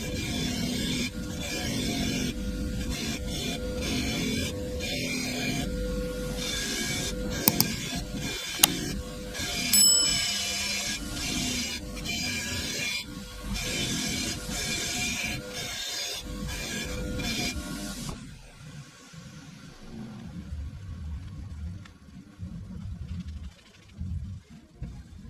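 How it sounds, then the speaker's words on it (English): A wire brush scrubs light rust from the wheel rims of a Suzuki A100 motorcycle, making a close, steady rasping scrape with a few sharper clicks, then settling into quieter, sparser scratching toward the end. "just wire brushing as much of it off as I can before I go any further"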